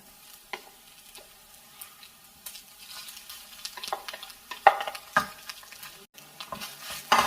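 Mashed potato is stirred into sautéed onions in a frying pan, making quiet scraping and stirring clatter in irregular bursts over a faint sizzle, with no voices.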